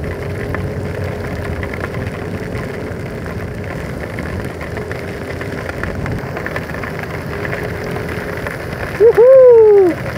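Heavy rain pours steadily on a highway during a stormy day, a dense continuous hiss throughout, with a brief rising-and-falling tonal whine near the end; no distinct thunder clap stands out.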